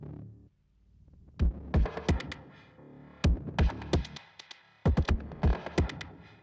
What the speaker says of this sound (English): I also have 2 kick tracks over here that have been heavily processed and sound like this.